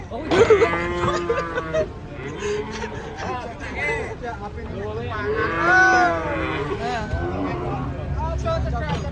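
Cattle mooing and lowing as they come down from a truck, several calls overlapping, with people chattering and a vehicle rumbling in the background.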